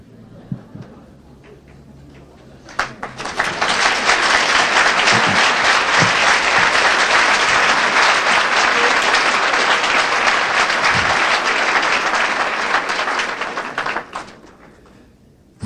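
Scattered claps from a conference audience swell into full, steady applause that holds for about ten seconds before fading back down.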